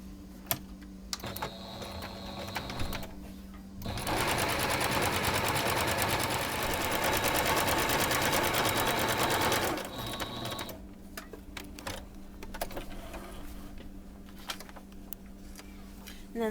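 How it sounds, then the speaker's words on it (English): A sewing machine runs a heavy stitch around the edge of a cloth pad in one steady, fast-chattering burst of about six seconds, with quieter handling and short starts before and after. "one of these heavier stitches on my sewing machine. And all that's left now is to go all the way around"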